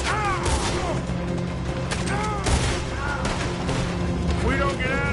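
Gunfire in a Red Dead Redemption 2 shootout during a robbery in Cornwall, with repeated shots and booms crackling over a constant busy mix of game noise, with voices heard throughout.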